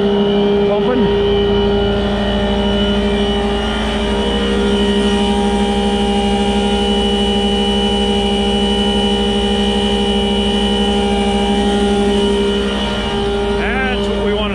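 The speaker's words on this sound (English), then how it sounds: "So that's what I'm looking at as far as the truck pumping" A truck pumps water with a steady, loud mechanical drone and humming whine that holds an even pitch throughout, with a faint rising whine near the end.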